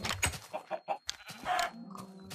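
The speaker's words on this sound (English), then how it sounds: "I have a chicken who escaped" A Minecraft chicken clucks in a quick run of short, close bursts, then a pause and a couple more clucks over a low in-game background.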